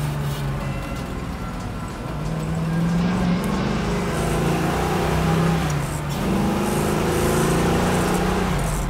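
A 1965 Ford Mustang Fastback engine pulls through the gears while driving, rising in pitch, easing off for a shift around two seconds in, then revving up again, steady and fairly close inside the moving car.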